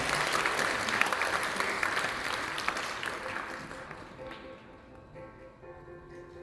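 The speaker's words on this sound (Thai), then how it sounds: "ขอเสียงปรบมือต้อนรับท่านด้วยค่ะ" Audience at a Yamaha youth music festival competition in Thailand applauding to welcome a violinist and composer, dense clapping that gradually thins and fades over several seconds.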